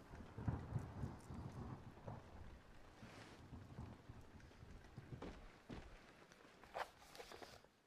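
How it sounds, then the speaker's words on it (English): Steady rain in a video game, Amnesia custom story The Great Work, patters under a soft, windy wash, with occasional louder splashes and low rumbles; no talking. "I've never heard the rain sound before, it's really cool."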